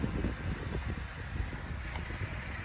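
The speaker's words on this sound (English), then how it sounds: "There's a garbage truck going." A passing garbage truck with old, worn air brakes gives off a steady, fairly faint low rumble that holds for the whole stretch without rising or fading.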